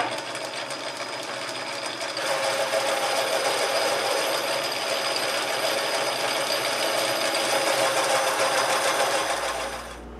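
Metal lathe turning a chuck back plate, a continuous close mechanical whir with fine rattling texture that runs steadily and drops off slightly at the very end.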